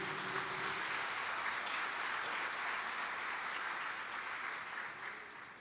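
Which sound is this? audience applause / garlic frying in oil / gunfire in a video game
audience applause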